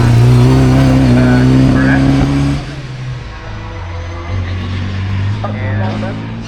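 A hill climb race car, apparently a twin-cam BMW-engined machine, launches off the line at Prescott, its engine loud and revving before the note drops and recedes under commentators talking over it.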